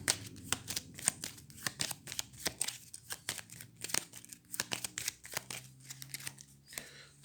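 Star Realms deck-building game cards get shuffled by hand, a quiet, close run of rapid riffling and flicking bursts repeating in an irregular rhythm, with no talking.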